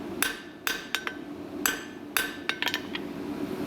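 Hammer blows dressing hot metal on an anvil, a handful of sharp ringing metallic strikes spaced irregularly, with a quick cluster of lighter taps near the end over a low background hum.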